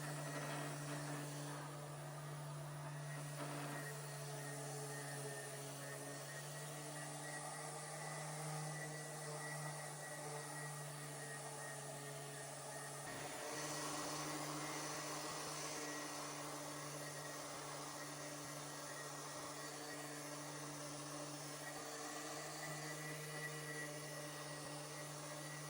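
Electric sander whirring steadily while sanding the inside of a walnut nightstand, a continuous droning hum with a slight shift in tone midway, moderately quiet and close.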